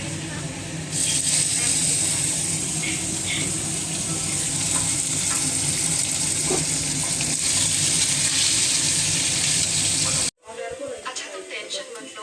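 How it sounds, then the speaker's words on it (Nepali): Chicken meat drops into onions frying in hot oil, setting off a loud, steady sizzle with crackling and stirring that runs without a break until it cuts off near the end. "सो अब चाहिँ म मासु हाल्न लाग्छु।"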